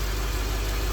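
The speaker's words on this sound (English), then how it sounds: "I have the car running." A Lexus LS430 engine idles steadily, a low, even rumble with a faint hiss and no speech, brief and unchanging.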